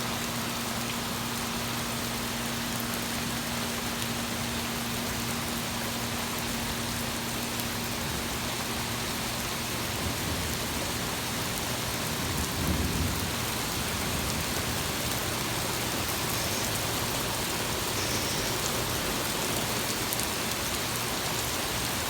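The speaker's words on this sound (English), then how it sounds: "And I think the storm's here." Heavy rain pours steadily during a violent thunderstorm, a dense, unbroken hiss close by with a brief low swell near the middle that may be distant thunder.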